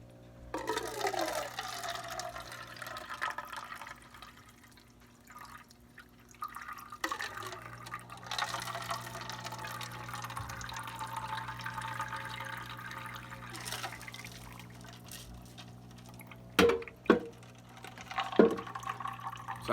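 Water drains from soil samples into cups in a fourth-grade classroom erosion experiment, with soft trickling and dripping under quiet room noise and a few sharper clinks near the end.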